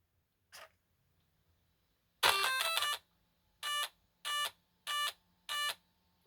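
An Arrma Kraton RC car with a FlySky GT5 receiver powers up: a short chirp, then a buzzy electronic tone followed by four evenly spaced beeps, clear and close in an otherwise quiet space.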